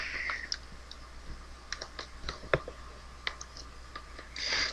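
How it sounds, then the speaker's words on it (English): Typing on a computer keyboard gives scattered, fairly faint key clicks in an irregular rhythm over a low background hum. "And now I want to type in somebody else's name."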